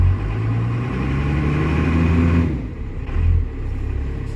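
A second-generation Cummins diesel truck engine runs loud and close, a steady low rumble with a rising surge that drops off near the middle, then settles back into a rough idle.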